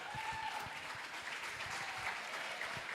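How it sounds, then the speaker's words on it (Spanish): Steady, dense applause from a church congregation at a Spanish-language Sunday morning service, filling the room evenly for the whole stretch with no voices rising above it. "dele fuerte ese aplauso a Jesucristo"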